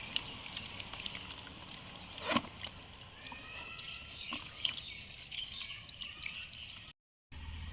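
Water poured into a container holding a compressed cocopeat brick, a steady close trickle and drip with a few sharper splashes, the pour running throughout before a brief silent cut near the end.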